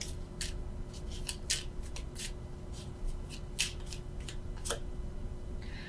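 Tarot cards are drawn and shuffled from a deck in a series of crisp, close papery flicks and slides, repeating at irregular intervals over a steady low hum.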